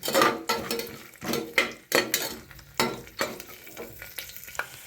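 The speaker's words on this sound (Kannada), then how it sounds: "ಬೆಳ್ಳುಳ್ಳಿ ಒಣಮೆಣಸಿಕಾಯನ್ನು ಹಾಕಿ ಸ್ವಲ್ಪ ಕರಿಬೇವು ಕಡಲೆ ಬೀಜ ಮೊದಲು ಇಷ್ಟನ್ನು ಚೆನ್ನಾಗಿ ರೋಸ್ಟ್ ಮಾಡಿ" Garlic, dry red chillies, curry leaves and peanuts roast in hot oil while a spoon stirs them briskly, producing a sizzle broken by repeated sharp scrapes and clinks against the pan.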